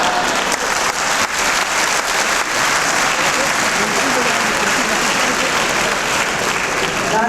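Loud, sustained applause from a large audience at a university convocation ceremony, a dense continuous wash of clapping with crowd noise mixed in, lasting several seconds.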